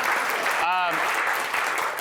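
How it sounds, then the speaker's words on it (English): Studio audience applauding lamb chops on a cooking show, a steady clapping wash throughout, with a short voice breaking in briefly partway through. "Wow, the claps for the lamb"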